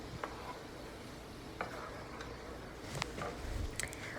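Potatoes, smoked sausage and fresh green beans simmer in a pan, a soft continuous sizzle with occasional light stirring clicks and taps, quiet and close.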